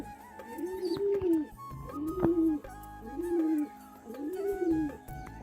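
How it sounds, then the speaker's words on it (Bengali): Pet pigeons coo close by in a repeated rolling rhythm, four soft throaty calls spaced about a second apart, with faint background rustles and knocks. "আমার পায়রাগুলো সারাদিনে কী করে কী কী করে"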